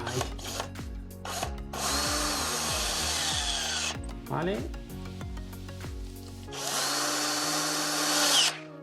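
An electric drill driving screws into an electrical junction box, set to 7 newton torque, whirs in several short bursts and a couple of longer runs, close and loud, with a brief spoken word in between.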